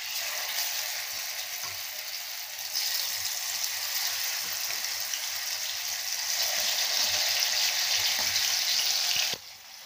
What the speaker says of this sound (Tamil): இப்போ இந்த மேக்னேட் பண்ண சிக்கனை நம்ம எண்ணெயில் கொஞ்சம் நேரம் ஃப்ரை பண்ணி எடுத்துக்கலாங்க